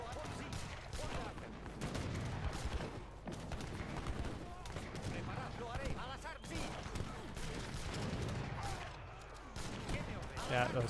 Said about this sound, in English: I'm going for the cannons.